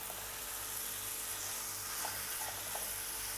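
Tomatoes and green chillies fry in a pan for a chicken karela dish, giving a steady soft sizzle with a few light stirring scrapes, fairly quiet and with no voices.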